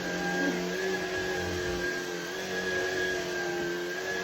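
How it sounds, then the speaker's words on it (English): Shark cordless pet vacuum cleaner runs with a steady, even motor whine and airflow hiss, close and continuous throughout with no talking. "It's just a vacuum."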